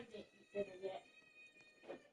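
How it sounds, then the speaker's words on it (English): A cat in a Roblox game gives several loud meows in short bursts, close and prominent, with a voice talking faintly in between. "That cat is loud."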